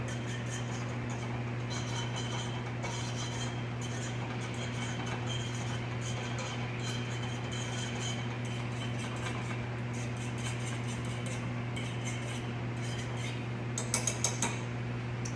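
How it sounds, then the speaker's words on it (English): Fork clinking steadily against a bowl while whisking an egg mixture for French toast, a soft continuous tapping rhythm over a steady kitchen hum, with a few sharper clinks near the end. "we're going to take our fork and we're going to mix that up"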